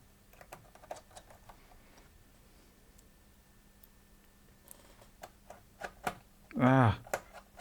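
Keys tap in quick irregular bursts on a Toshiba C660 laptop keyboard, close and crisp, with a louder thump near the end and a voice speaking briefly.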